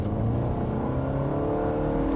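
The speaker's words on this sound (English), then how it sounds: "the CVT does its best to kind of try to mimic gear ratios, but honestly, you hear the noises it makes" A 2017 Nissan Rogue SL with a CVT transmission accelerating, its engine holding a steady, droning whine that rises slowly in pitch, heard continuously from inside the car with no talking.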